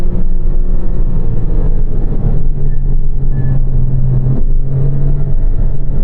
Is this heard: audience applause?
no